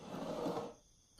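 A heavy door held by a large iron bar latch swings open in a video game, a brief grinding, creaking scrape that fades out, followed by a faint tap.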